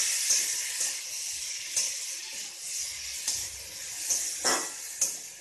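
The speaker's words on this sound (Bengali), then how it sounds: "এটা একটু ভাজা ভাজা করব।" Gobindobhog rice with bay leaf and whole garam masala frying in a pan, giving a steady soft hiss and sizzle with faint scraping stirs every second or so, alone and fairly close.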